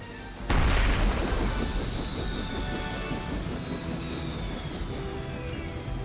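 Helicopter in the Marvel's Midnight Suns video game: a sudden loud burst followed by a steady, fairly quiet engine roar that slowly fades while a high whine drifts downward, with no voices.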